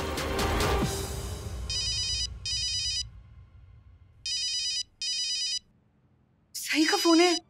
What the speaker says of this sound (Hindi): सही का फोन है।